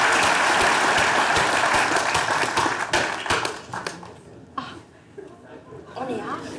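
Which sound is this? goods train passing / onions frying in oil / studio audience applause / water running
studio audience applause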